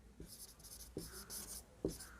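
Chalk or marker strokes on a board, a few short soft scratches and taps spaced about a second apart, faint and close in a quiet room.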